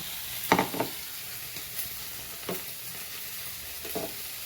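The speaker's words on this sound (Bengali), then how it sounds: "আদা বাটা আর লঙ্কা বাটা আর দিয়েছি রসুন বাটা। এটার সঙ্গে ভালো করে ভেজে নিচ্ছি।" Ginger, green chili and garlic paste fry in a pan, giving a soft, steady sizzle. Several scraping stirs of a spoon stand out near the start and again later.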